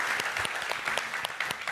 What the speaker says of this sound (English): Let's give that video a round of applause